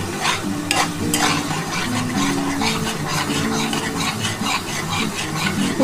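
Spice paste stir-fried in a pan for a spicy Bengali egg curry, a steady close sizzle with scraping stirs running continuously and no talking.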